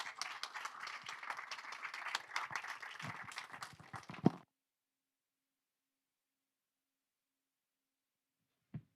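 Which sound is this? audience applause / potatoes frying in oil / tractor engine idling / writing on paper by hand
audience applause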